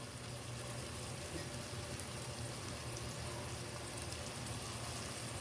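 Crushed ginger and garlic sauté in a hot pan of oil, giving a soft, steady, even sizzle throughout with no breaks or voices.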